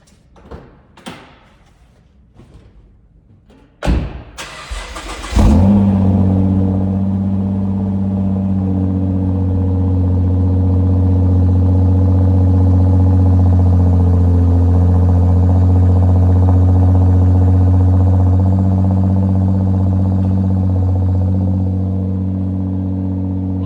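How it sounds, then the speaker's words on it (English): 2009 Nissan GT-R cold start: a few clicks and a thud, then the engine catches with a sharp rev and settles into a loud, steady high idle with a deep rumble, heard alone. "Here's a cold start video of the 2009 Nissan GTR for sale on Cars and Bids."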